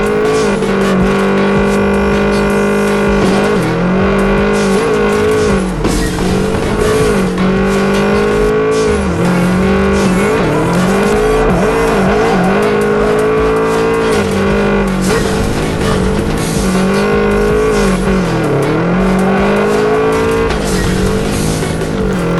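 Race cars in a realistic mobile racing game, engines droning loud and continuous with rising and falling revs throughout, overlaid by steady game music and no pauses.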